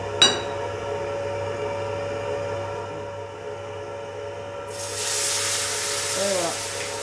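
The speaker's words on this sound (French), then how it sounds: "Là, on déglace au porto" Port wine is poured into a hot pan of rabbit to deglaze it, bursting into a loud, broad sizzling hiss partway through after steady kitchen hum, then settling into bubbling.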